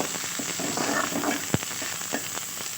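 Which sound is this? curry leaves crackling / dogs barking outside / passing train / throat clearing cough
curry leaves crackling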